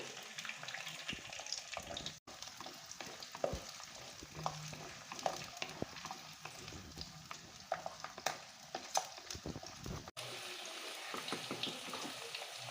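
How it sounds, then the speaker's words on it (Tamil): Chopped ginger and garlic sauté in hot oil for a Chettinad country chicken curry, giving a steady close sizzle with scattered spatula scrapes and taps throughout. "இஞ்சி பூண்டு நல்லா எண்ணெயில் வதங்கிட்டு இருக்கு"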